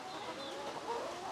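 Backyard chickens on a small farm in Cebu cluck softly and steadily at a modest distance, a low, quiet murmur of fowl with no talking over it.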